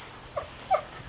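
A German shepherd lets out two short, faint whimpers close by, separated by a brief pause, in an otherwise quiet room.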